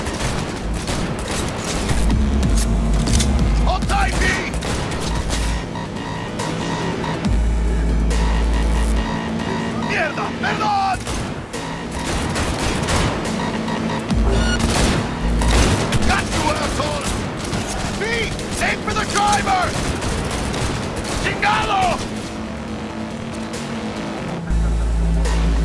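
Cyberpunk 2077 chase on Xbox One S: bursts of gunfire crackle over a humming car engine, loud and continuous, with game voices shouting over the action.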